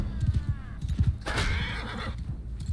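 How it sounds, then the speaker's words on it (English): A horse in the medieval battle game Mount & Blade II: Bannerlord gives a loud, drawn-out whinny over rhythmic hoof clip-clops and general battle noise. "Okay, that was the horse."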